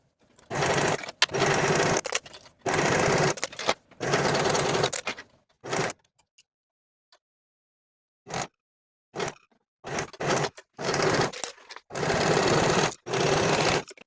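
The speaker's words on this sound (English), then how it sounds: "sew both of your side seams with a 1/4 inch seam allowance" Bursts of a sewing machine stitching the side seams of stretch leggings, several loud close runs of a few seconds each, separated by short silences and single quick stitches.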